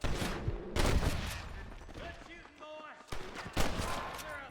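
Repeated gunfire crackles through a Red Dead Redemption shootout in the Old West setting of New Austin, with several loud bursts of shots separated by brief lulls and a faint voice underneath.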